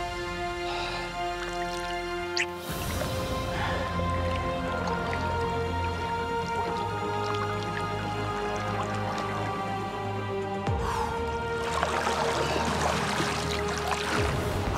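A piranha is let back into river water from a fishing boat in northern Argentina; wet drips and squishy splashing run through the clip beneath a steady musical score, with a brighter burst of water noise near the end.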